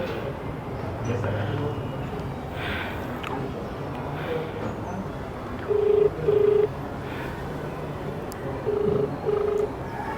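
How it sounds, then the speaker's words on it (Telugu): A telephone call being dialed, with short beeping ring tones pulsing in pairs over a noisy background and a voice talking. "సో నేను ఇప్పుడు కాల్ చేస్తాను"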